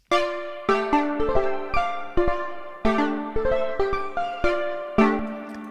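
A bright synthesizer lead plays a plucky melody of short, evenly spaced notes with a steady sequenced rhythm, clear and alone.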